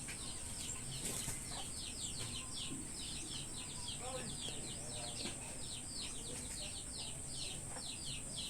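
Chickens cluck softly and intermittently on a small backyard farm among fruit trees, with birds chirping steadily in the background and a faint hum throughout.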